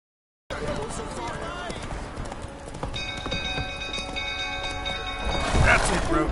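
Hooves of Roach the horse pound in a steady galloping rhythm in The Witcher 3, close and clear, building slightly louder toward the end with scattered game effects.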